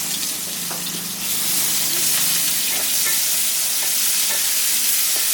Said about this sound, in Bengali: পেঁয়াজটাকে এক দেড় মিনিট নাড়ছি তেলের মধ্যে